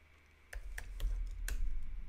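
A few quick keystrokes on a computer keyboard, four or five crisp clicks in an irregular burst, close and fairly soft over a low background rumble, with no voice.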